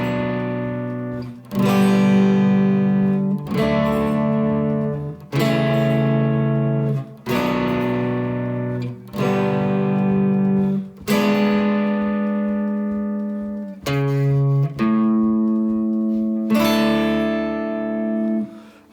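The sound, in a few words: guitar playing bridge of a song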